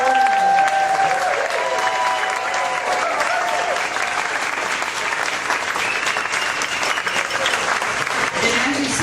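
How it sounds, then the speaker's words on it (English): A large audience applauds Donna and Kelly at a speakers' event, with steady, dense clapping that holds for the full stretch. A few whistles and voices stand out briefly near the start. "give another big round of applause to Donna and Kelly"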